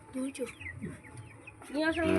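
Sick chickens cluck in short bursts nearby under a cloudy sky, with a person talking softly in between.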